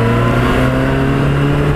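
Car engine screaming at high revs around 7000 rpm, a loud, sustained, close-up roar with strong steady harmonics and no voices.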